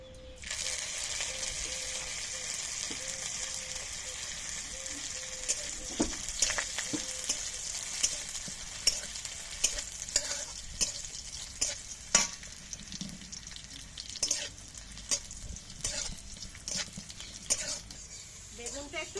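Whole neem leaves frying in hot oil in a wok, with a steady bright sizzle throughout and a growing run of stirring clinks and scrapes, close and fairly loud, without talk.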